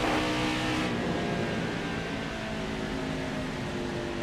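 Stock cars racing in the Nascar Heat 5 video game, with a loud continuous engine roar from a pack running close together. The drone stays dense and steady throughout, and no one talks over it.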